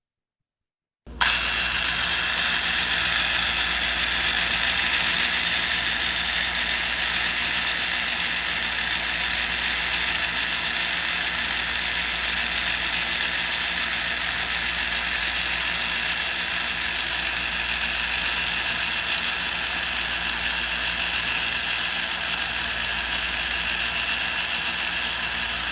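A Merlin carving tool with new bearings and tight gears runs in one steady, close whir with a faint mechanical chatter, starting abruptly after a second of silence and holding an even level to the end.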